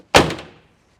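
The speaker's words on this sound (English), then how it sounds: "it closes like it's supposed to" A single solid slam of an original squarebody truck door with properly lubed hinges, a close, loud thunk with a short ringing decay and nothing else around it.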